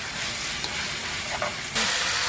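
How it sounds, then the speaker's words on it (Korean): Boiled glass noodles stir-frying in a pan for japchae, a dense close hiss of frying with scraping stirs that swells louder and brighter in the final half second. "불을 켜서 볶아보겠습니다"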